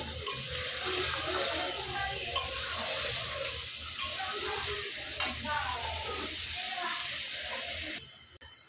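Marinated biryani meat frying and being stirred in a pan, giving a steady loud sizzle and hiss. Occasional spoon scrapes and clinks break into it at regular intervals, and the sound ends abruptly near the close.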